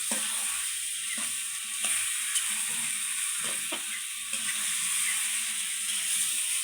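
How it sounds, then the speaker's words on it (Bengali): Bottle gourd being stirred and sautéed in a pan, with a steady sizzle running underneath and a few sharp scrapes and taps of the spatula against the pan, close and moderately loud, no talking. "একবার ভালোভাবে নেড়ে চেড়ে দেবো ও কষাবো"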